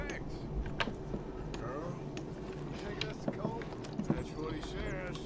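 Steady horse hoofbeats clip-clop in the video game Red Dead Redemption 2, with a few louder thuds, running continuously under people talking.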